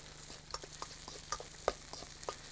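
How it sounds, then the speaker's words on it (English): Salsa ingredients (pineapple, chili, red pepper) being stirred and tossed together in a big bowl, soft irregular clicks and wet scrapes at close range, no talking. "go to a bigger bowl, far easier, and mix all those ingredients"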